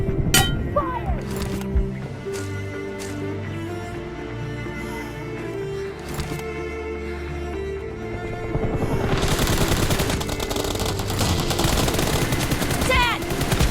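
Rapid automatic gunfire and shots in a multiplayer team deathmatch video game, with dense bursts layered over game music and effects, growing louder and busier toward the end; a voice speaks briefly.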